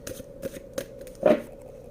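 Tarot cards are handled and shuffled in short crisp riffles, a few quick brushing snaps close by, ending in a louder shuffle burst, with no talk.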